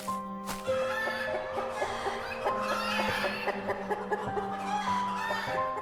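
Hens on an Indian egg farm cluck and cackle continuously in a dense, close chorus, with one brief sharp knock near the start and no voices.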